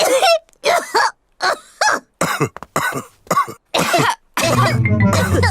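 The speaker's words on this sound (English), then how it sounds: "All the grown-ups have caught Pedro's cough" A string of repeated coughs in rapid bursts, loud and close, from more than one cartoon voice, ending with a sustained strained vocal sound.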